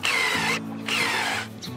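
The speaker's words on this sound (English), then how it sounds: "As we chisel out the center, I find it helpful to take a drill." Power drill boring into the center of a log being hollowed into a flower planter, two sustained whirring bursts with a steady motor hum, close and loud, then a brief restart.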